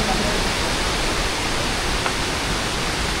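Steady broadband roar of rushing water pouring over a dam, loud and continuous with no break, close and filling the whole scene.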